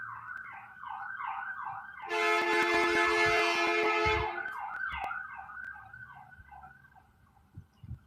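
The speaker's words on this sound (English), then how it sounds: "There's another siren." An emergency siren passes outside, wailing steadily up and down. A loud, blaring horn blast cuts in for about two seconds partway through, then the wail fades off into the distance.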